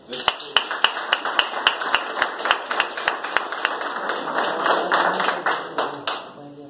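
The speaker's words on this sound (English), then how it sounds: "And we just want to give them a round of applause." Scattered clapping from a graduation audience, a few sharp close claps in a loose rhythm that thicken into fuller applause before tapering off.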